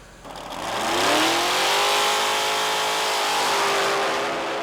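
Drag racing cars roaring past, a loud engine rising quickly and holding a strong sustained roar with shifting pitch, no voices.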